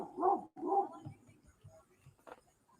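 A dog gives two loud, close barks, followed by quieter scattered yips and small noises.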